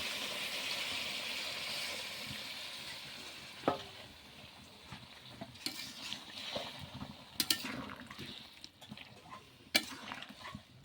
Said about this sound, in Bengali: এখন আমি জল দিয়ে দিচ্ছি একটু সামান্য, এটা কিন্তু গরম জল।